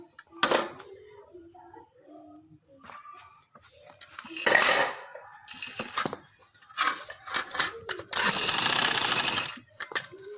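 A sewing machine runs in short bursts while stitching a ban neck (band) collar on fabric. A longer steady run comes near the end, and someone talks in between.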